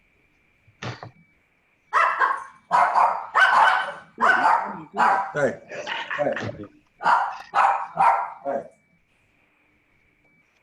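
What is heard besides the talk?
dogs barking excitedly as a car pulls into the garage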